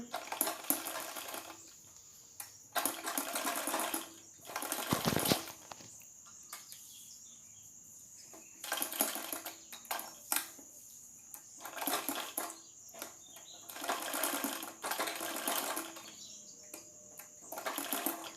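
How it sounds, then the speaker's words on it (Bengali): A sewing machine stitches the hook loops on a blouse, its motor whirring in repeated bursts of a second or two, broken by short quiet pauses as the fabric is turned, with no talk. "এরকমভাবে সেলাই করে নেবেন আর ঘুরিয়ে ঘুরিয়ে সেলাই করবেন"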